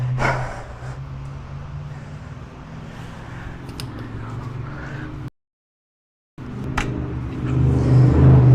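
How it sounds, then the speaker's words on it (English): A raggedy-sounding truck drives by outside a home garage, a rough, steady low engine rumble that cuts out briefly and then returns louder and closer, with no talk. "I don't know if you could hear that. That raggedy sounding truck"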